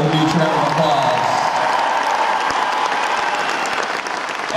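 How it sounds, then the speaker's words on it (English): Concert crowd applauding the road crew at a concert, a dense, loud wash of clapping with some cheering that fills the whole stretch and tapers slightly at the end. "So please give every member of our crew a huge round of applause."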